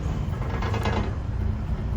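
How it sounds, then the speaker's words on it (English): An idling Ford Mustang Fox Body, bought at auction, runs with a loose exhaust that rattles, giving a steady, continuous low rumble with a fine metallic chatter throughout and no voices. "Got some exhaust rattling."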